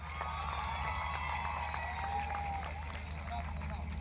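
Faint, distant audience applause for the Punjab Council at a Punjab University Lahore event, a steady low wash of clapping and crowd noise with no clear individual claps.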